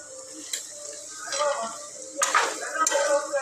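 Onion with turmeric and coriander powder stirred in a pan: a spoon scrapes and clinks against the metal in short bursts over a soft sizzle, close up.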